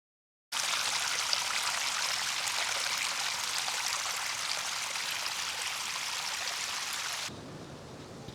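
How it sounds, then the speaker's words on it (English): Steady rain falls in a park in Bath, England, starting abruptly as a loud, even hiss that holds continuously for several seconds before easing slightly near the end, with no voices. "it suddenly starts raining again."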